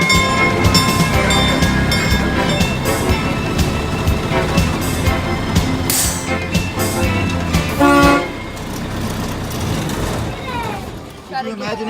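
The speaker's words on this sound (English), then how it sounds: "Can you imagine having to drive on that train for 4 or 5 hours?" The Galloping Goose train ride at Knott's Berry Farm rumbles along with rhythmic clatter and sharp horn toots, loud and close, with voices of riders mixed in and the horn standing out around the eight-second mark.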